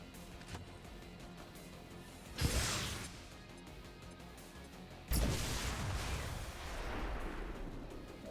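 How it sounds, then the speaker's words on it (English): A grenade blast in the XCOM game Long War of the Chosen: a brief whoosh and crack, then a heavy explosion with a sustained rumbling crash that lingers and fades slowly, with no talk. "Throwing grenade!"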